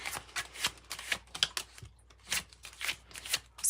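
Oracle cards from the Oracle of Genetic Gifts deck being shuffled by hand, a run of quick papery riffles and soft slaps repeating in irregular bursts, close and clear with no talking.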